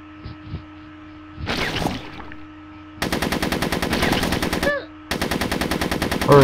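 Tower gunfire from the Fieldrunners PC strategy game on the Grasslands map rattles in two long rapid bursts of machine-gun fire, with a brief swell of game noise before them and a low steady hum underneath.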